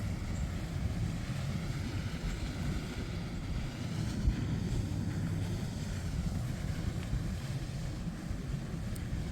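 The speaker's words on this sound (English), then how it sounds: "the wind's blowing" Wind blowing outdoors on a deck, a steady, loud broadband rush buffeting the microphone for the whole stretch, with no talking.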